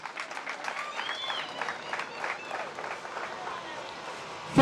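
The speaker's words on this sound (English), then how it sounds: "Are you not clapping for the government?" Audience clapping at a graduation ceremony for a training institute, a scattered, uneven round of hand claps from a seated crowd with some murmur mixed in, ending on a sudden loud bump.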